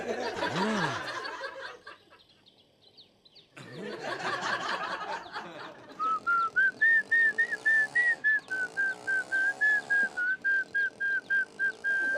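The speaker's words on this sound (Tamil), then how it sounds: "நீங்க விசில் அடிக்கிறதா இருந்தா என்ன மட்டும் பார்த்து விசில் அடிங்க" A person whistles a long, wavering tune made of repeated short bursts in a steady rhythm, loud and close, after some brief chuckling and background noise at the start.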